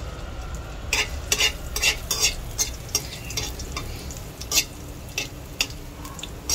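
Ginger stirred and sizzling in oil in a hot pan while pork with chili pepper is cooked, with a steady fry hiss under repeated close scrapes and clicks of a utensil against the pan.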